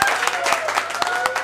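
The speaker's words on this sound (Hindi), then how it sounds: "तो एक जोरदार ताली बजाकर स्वागत करिए।" Audience applause at a song launch event, a brief burst of dense clapping from a crowd, fairly loud and close, with a voice faintly underneath.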